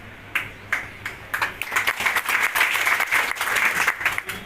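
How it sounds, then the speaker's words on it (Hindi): Audience applause at a public address to a barber community in Delhi, beginning as a few scattered claps and swelling into dense, sustained clapping from a sizeable crowd. "थोड़ी देर के लिए ताली ना बजाएं"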